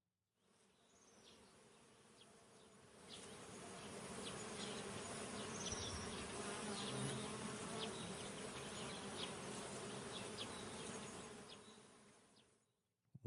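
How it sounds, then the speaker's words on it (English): Bees buzz loudly from the top of an oak tree, a dense droning hum that swells in, holds steady for several seconds with individual insects darting past, then fades away. "from the top of the tree there came a loud buzzing noise"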